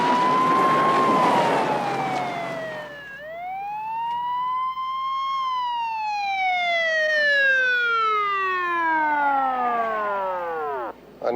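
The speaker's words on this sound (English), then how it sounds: "I never got stopped by an ambulance before." A wailing ambulance siren sweeps up and down in long slow cycles, loud and close, then cuts off abruptly near the end with no talk over it.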